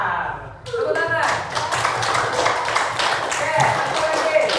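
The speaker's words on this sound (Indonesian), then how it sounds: "Tepuk tangan." A group claps hands together in a quick burst of fairly close, bright claps that carry on alongside voices talking in the room.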